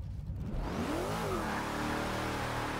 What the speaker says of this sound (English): use the throttle to push my car out wide